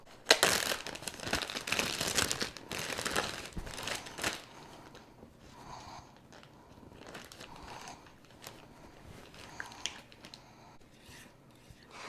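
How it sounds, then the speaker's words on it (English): A plastic bag crinkles and rustles as it is filled with a cream cheese mixture for piping onto a pizza dough bread, loud close crumpling bursts at first, then softer intermittent crackles, with no voices. "I'm going to put it in a plastic bag and kind of pipe it on top."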